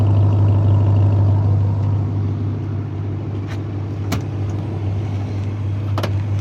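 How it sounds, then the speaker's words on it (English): A 2022 Ram 1500 TRX pickup truck with its supercharged V8 exhaust rumbling loudly up close, a deep steady idle with a strong low drone and a few sharp clicks over it. "Some exhaust action for you."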